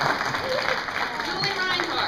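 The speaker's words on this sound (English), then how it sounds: "We're giving you a round of applause" Indoor audience at a library award ceremony gives award honorees a round of applause, a dense clapping wash under which a voice keeps talking throughout.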